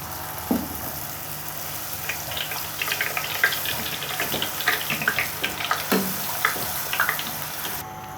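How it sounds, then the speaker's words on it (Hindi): Papdi dough discs frying in hot oil for raj kachori, a steady close sizzle with bursts of bubbling and a few sharp clinks and splashes. "तो अब हम पापड़ी को फ्राई करेंगे।"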